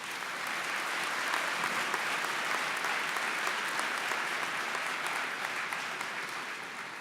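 A commencement crowd at Ferris State University applauds, with steady, dense clapping from a large audience in a hall that holds evenly at moderate loudness for several seconds and then fades slightly toward the end.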